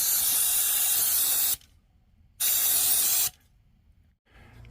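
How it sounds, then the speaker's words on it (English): Brake cleaner fluid sprayed onto a Horwin CR6 motorbike during a gear oil change, two loud close aerosol bursts of about a second and a half each, separated by a short pause, with quiet workshop ambience after. "What I do like using is the brake cleaner fluid."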